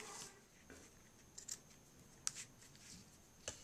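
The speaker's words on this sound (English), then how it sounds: "Use really sharp scissors when you're cutting ribbon." Soft, sharp snips of scissors cutting, a few scattered clicks over a quiet background hiss.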